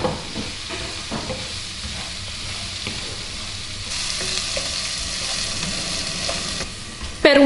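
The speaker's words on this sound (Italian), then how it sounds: "Facciamo tostare ora il riso con le verdure." Rice being toasted with spring vegetables in a pan for risotto primavera gives a steady close sizzle and frying hiss throughout, with occasional stirring scrapes and a brief sharper clink near the end.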